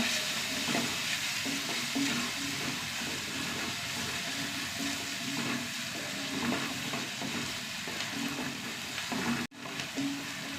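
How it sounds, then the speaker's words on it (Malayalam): Crushed garlic, ginger and green chili fry in a pan with a constant close sizzle and crackle, broken by soft scrapes of stirring and a brief knock near the end. "ഇതിലേക്ക് ഒരു 5 അല്ലി വെളുത്തുള്ളി, ഒരു കഷ്ണം ഇഞ്ചി ചതച്ച് കിട്ടാണ്, 2 പച്ചമുളക്, ഇഞ്ചി വെളുത്തുള്ളി ഒന്ന് മൂത്ത് വരട്ടെ"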